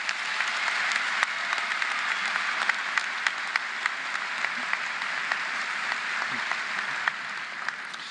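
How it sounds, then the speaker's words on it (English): Sustained applause from a high school graduation audience in a large hall, a dense even wash of clapping with sharper individual claps popping out, holding steady for several seconds. "Let's give them all a round of applause."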